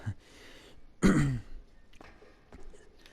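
A single throat clearing, close and fairly loud, standing out against quiet background noise, with faint soft sounds following.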